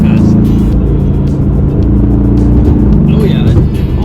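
Mercedes-AMG GT-R V8 engine pulling hard from inside the cabin, a loud steady rising drone with harmonic layers, while occupants speak over it.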